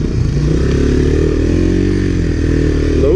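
Honda ATC three-wheeler engine, from 1980s trail riding, laboring up a hill in low gear, a loud, close, steady droning growl with slight pitch shifts and no talk.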